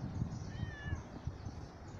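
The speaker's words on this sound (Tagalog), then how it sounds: "Mga pusa." Pet cats at a house meow softly, a drawn-out wavering cry rising then falling, faint and close amid low background rustling.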